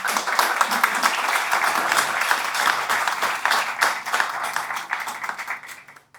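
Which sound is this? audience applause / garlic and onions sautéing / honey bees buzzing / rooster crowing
audience applause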